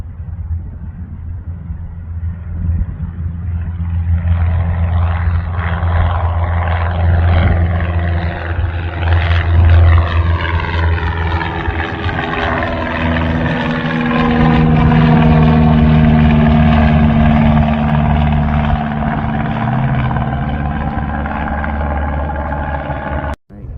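A Cessna 172 on a student pilot's solo flight, its piston engine droning loud and steady with a propeller hum, rising slightly in pitch midway and cutting off abruptly at the end.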